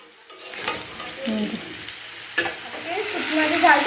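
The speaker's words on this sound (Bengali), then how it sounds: "নতুন আলু ভাজা হচ্ছে ছোটো ছোটো করে" Small new potatoes, parboiled with salt and turmeric, fry in a pan with a steady sizzle, broken by occasional stirring scrapes; the frying noise grows louder toward the end.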